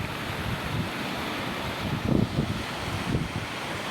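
Strong sea waves and a fast, muddy current in heavy rain under dark skies, heard as a continuous broad rushing wash with wind buffeting the microphone and a few louder surges.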